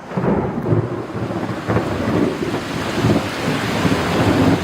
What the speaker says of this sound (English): It is just pouring, windy, lots of lightning and thunder.